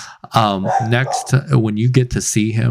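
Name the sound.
dog barking in the background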